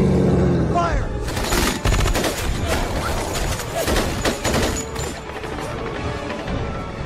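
Rapid bursts of gunfire from the Resident Evil 1 video game, dense and loud throughout with crashes mixed in, while voices shout over the shooting.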